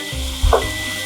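Meat frying in a pan for a tomato meat sauce, a short close sizzle with a brief louder crackle in the middle over a steady hiss.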